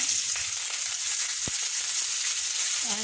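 Cumin seeds dropped into hot oil for a chana tarka, a steady bright sizzle close by with a few soft clicks and a faint scrape near the end.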